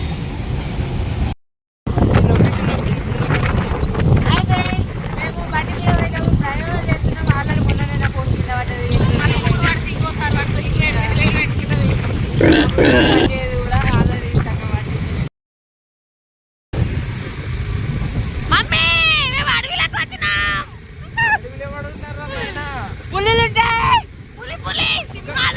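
Train passing by at close range, a loud continuous roar and rattle with high screeching squeals, broken by brief cuts, while a person talks over the noise.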